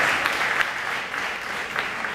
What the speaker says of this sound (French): Voilà, on peut vraiment l'applaudir.